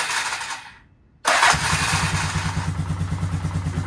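A 1996 Polaris Sportsman 500 ATV engine cranks briefly, falls silent for a moment, then fires up loudly and settles into a steady, rhythmic close-up idle.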